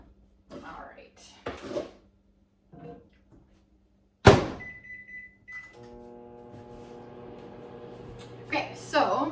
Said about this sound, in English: I'm gonna put these first in the microwave for 1:30